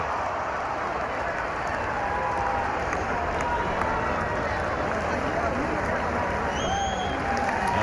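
A spring training baseball crowd at a Pirates versus Red Sox game roars and applauds a runner's hustle on the bases, a broad, steady wash of distant cheering and clapping throughout.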